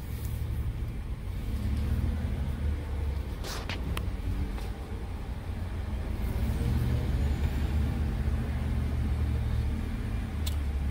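A 2002–2011 Toyota Camry rolls around a corner, its steady low engine and road rumble continuous and fairly loud from inside the car, with a couple of brief clicks or bumps partway through.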